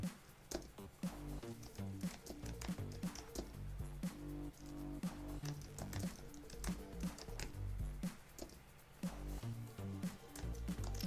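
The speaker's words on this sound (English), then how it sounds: "I'm just typing random keywords" Typing on a computer keyboard, a rapid irregular patter of clicking keys heard close up, with short pauses between bursts and no talking.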